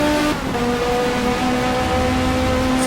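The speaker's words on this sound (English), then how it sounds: "especially in this really heavy rain" Heavy rain in the Race 07 racing game hisses as a loud, continuous wash over a steady engine drone, with no talking.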